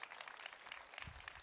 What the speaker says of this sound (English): they're going to clap for everything